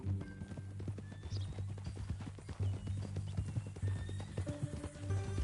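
Horse in Red Dead Redemption 2, with rapid steady hoofbeat clip-clops close by and a whinny rising above them, all under a low continuous hum.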